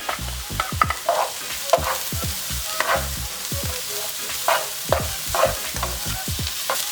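Shallots and garlic sizzle in melted butter in a pan, with a constant frying crackle under repeated scraping stirs from a utensil, close and fairly loud.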